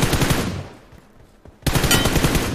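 Loud automatic gunfire in a shooter video game, a dense burst that fades to near silence for about a second before a single shot and another sharp, sustained rattle of fire.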